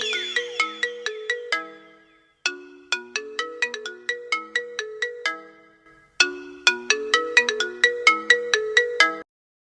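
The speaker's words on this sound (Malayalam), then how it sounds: "ഇതെന്താ പതിവില്ലാത്തൊരു ഫോൺ വിളി?" Mobile phone ringtone for an incoming call, a bright repeating melodic pattern played in three bursts with short gaps, clear and alone with no talking.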